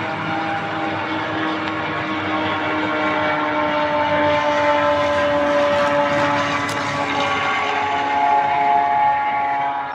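A drone flies overhead with a steady, loud, droning engine hum and a buzzing tonal whine that holds for the whole stretch, close and continuous with no voices.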